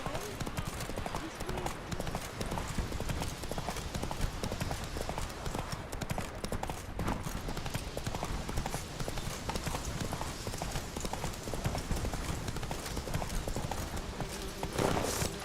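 Roach the horse gallops in The Witcher 3, a steady rapid clip-clop of hooves running throughout amid game ambience, with brief talk over it.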